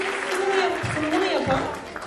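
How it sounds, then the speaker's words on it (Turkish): Applause at a seventh-grade end-of-year school evening, a brief burst of clapping mixed with a voice speaking over it. "hepsini tebrik ediyor ve tek tek alkışlıyorum"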